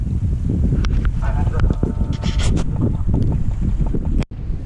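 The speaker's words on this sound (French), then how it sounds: "Passage du Cap Créus à la voile, en vente arrière, sans appui moteur" A sailboat runs downwind under sail alone, with no engine, off Cap de Creus; a steady, loud rush of wind and water fills the whole stretch close to the microphone.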